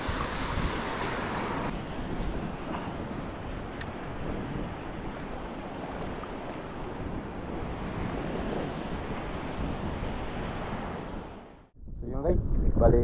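Strong amihan wind gusts over the sea off Palawan during ultralight fishing, a steady loud roar of wind buffeting the microphone with waves beneath, then a brief drop and a renewed blustery rush at the end.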